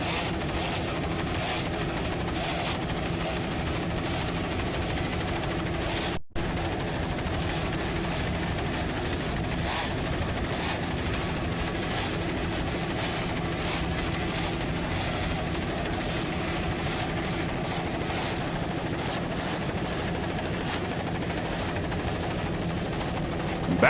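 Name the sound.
helicopter filming offshore powerboat race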